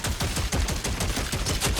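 A gas-powered V6 weapon in DOOM: The Dark Ages fires in a loud, unbroken burst of rapid, chugging shots, dense and mechanical, with no voices over it.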